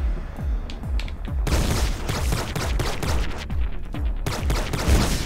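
Rapid bursts of heavy weapon fire from a shoulder-mounted cannon in the video game Doomsday Hunters, a dense run of loud booming shots that keeps going for several seconds, each blast closely following the last.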